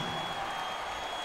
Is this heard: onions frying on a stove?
no